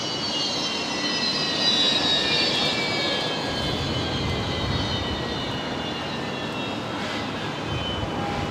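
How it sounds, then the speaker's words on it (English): A Fokker airliner roars at night at Brisbane Airport, a loud, steady jet engine drone with a high whine on top, continuous and unbroken. "Fokker making an absolute racket"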